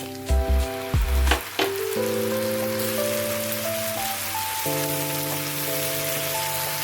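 Tomato paste hits a pan of fried onions, a few loud thumps and splutters at the start giving way to a steady close sizzle, with background music running beneath.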